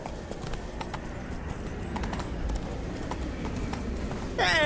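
Roach the horse gallops in The Witcher 3: Wild Hunt, hooves clip-clopping in a quick, continuous rhythm over game ambience, with a brief sharper burst of sound at the very end.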